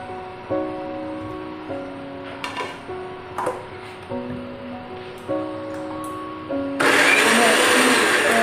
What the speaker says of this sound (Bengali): কাঁচা লঙ্কা, টমেটো, আদা আর কাজু বাদাম মিক্সিতে আমি পেস্ট করে আলুর দম করার জন্য মশলাটা আমি রেডি করে নেব